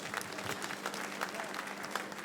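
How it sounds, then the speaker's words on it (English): An audience at a live Nigerian comedy show, Made in Edo Talent, bursts into a sustained round of applause, dense steady clapping with some crowd noise filling the whole moment. "can you give yourself a very big round of applause"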